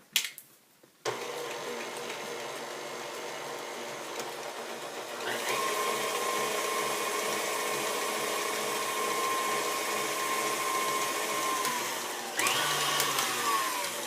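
Electric hand mixer beating eggs into pumpkin spice cupcake batter, a steady continuous motor whir with a brief start, a change in pitch partway through and a louder surge near the end, with no talk.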